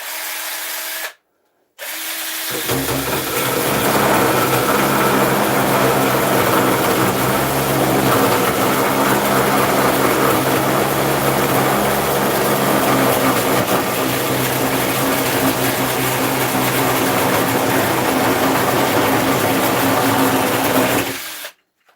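A mini chainsaw attachment driven by a power drill runs at full speed for about twenty seconds, a loud, harsh, continuous buzzing whir that starts abruptly after a brief blip and stops sharply at the end, with no voices.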